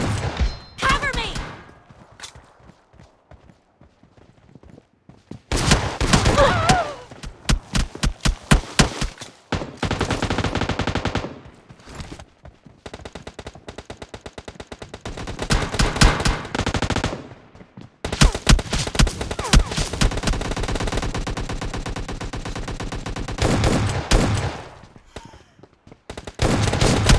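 S12K shotgun fire in a team deathmatch shooter game: rapid bursts of booming shots in dense clusters with short pauses between volleys, loud and close, mixed with other gunfire.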